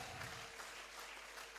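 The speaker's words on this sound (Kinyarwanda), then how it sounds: "Let's clap for the Lord." A church congregation claps for the Lord, a brief dense wash of applause filling the hall at a fairly even level.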